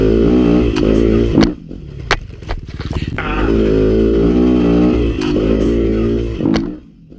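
A Yamaha YZ250FX dirt bike engine drones loud and close throughout, its steady harmonic buzz dipping briefly as revs fall, with clattering knocks and scrapes from the ride breaking through.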